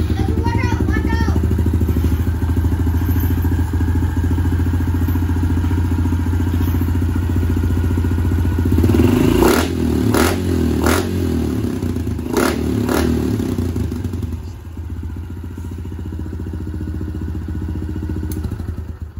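A 2015 Honda CRF110 dirt bike fitted with an FMF exhaust pipe idles with a steady, buzzy engine drone, then blips and revs briefly with some clatter and thumps before settling, heard close throughout.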